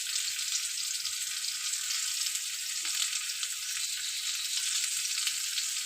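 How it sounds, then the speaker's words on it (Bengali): Eggplant and potato fry in hot oil with nigella seeds and green chilli, giving a steady, dense, close-up sizzle that runs unbroken throughout with no speech. "আর বেগুন আলু তাও আমি একটু ভেজে নিচ্ছি।"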